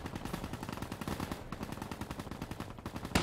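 Rapid automatic gunfire from the video game Call of Duty Black Ops III multiplayer, a continuous fast stream of shots at steady moderate loudness with no talk over it.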